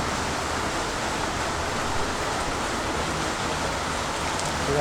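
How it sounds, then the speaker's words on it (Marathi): Heavy pre-monsoon rain pouring down in a village in Konkan, a dense, constant roar of downpour with no breaks, loud and close throughout, with no voices. "मगापासून पाऊस चालू आहे"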